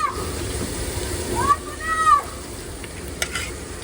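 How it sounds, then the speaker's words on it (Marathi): Crushed green chili thecha fries in a pan with a soft steady sizzle and faint stirring, close, while a person talks over it. "ठेचा टाकलं आपण फ्राय करून घेणार तिला मस्तपैकी"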